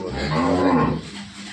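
A large-breed cow gives a single drawn-out, close moo that swells and then fades, with no talk over it.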